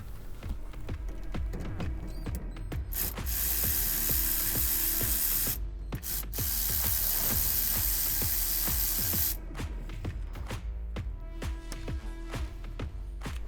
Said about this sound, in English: loosen the vent line and fill hose from the fill neck, and that's going to be 2 8mm hose clamps there and there.